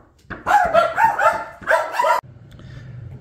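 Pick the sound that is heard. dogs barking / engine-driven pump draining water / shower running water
dogs barking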